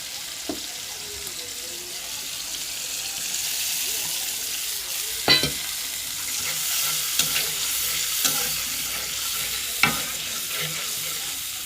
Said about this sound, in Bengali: এখন একটু ভালো মশলাটা ভালোভাবে কষিয়ে নেব।